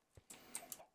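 Chickens in a video game giving a few short clucks, a quick cluster of sharp bright calls over about a second, fairly faint against quiet game background.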